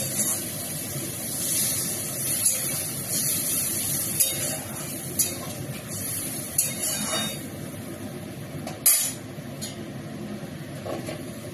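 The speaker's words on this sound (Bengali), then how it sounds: "এবার আমি একটু জল দিয়ে দেবো।" Water poured into a hot pan of fried potatoes and cooked-down spices sets off a steady hissing sizzle, with occasional sharp clicks and scrapes of a utensil.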